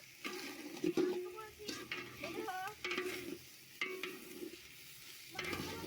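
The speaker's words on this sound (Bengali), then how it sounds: "চালটা ভালোভাবে ভাজা হয়ে গেছে" Rice frying in ghee in a pot for vegetable polao, a soft close sizzle broken by repeated scraping stirs of a spoon, fairly quiet overall.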